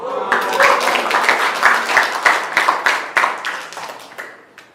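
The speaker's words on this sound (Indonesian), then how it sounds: "Tepuk tangan." A classroom of students clapping together, steady and lively for several seconds before tapering off toward the end.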